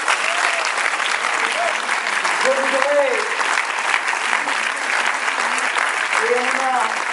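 Sustained applause from an audience at a film festival screening in Lyon, steady and dense throughout, with a voice speaking briefly over the clapping at a few points.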